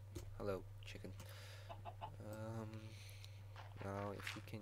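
Minecraft chicken clucking in a survival game, several short repeated clucks close by, with someone talking over them.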